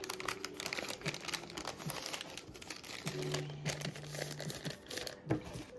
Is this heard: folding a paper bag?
yes